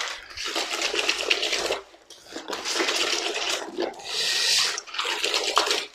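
A towel is washed by hand in a tub of water, with loud, close sloshing and splashing in rhythmic bursts and short pauses between scrubbing strokes.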